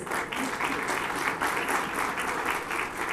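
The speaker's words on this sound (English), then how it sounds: "Let's give them a big round of applause" An audience at a talk gives a hearty round of applause, many hands clapping in a steady, full burst at moderate distance, no speech over it.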